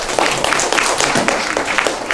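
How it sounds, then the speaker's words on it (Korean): Audience applause at a university special forum welcoming a speaker, a dense wash of many hands clapping steadily throughout, moderately loud and without talk. "오늘 큰 박수로 부탁드립니다"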